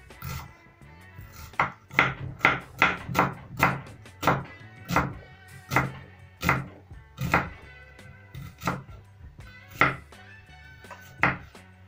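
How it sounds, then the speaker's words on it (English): A knife slices an onion into thin slices on a cutting board, a steady run of about twenty crisp, close chopping thunks in an uneven rhythm, with no talk. "So I'm going to have my onion, then I'm going to slice it into very thin slices."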